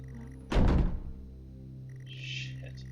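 A single heavy thunk as the front door opens in the horror game Stories Untold, followed by a quiet room tone and a faint, soft hiss a moment later.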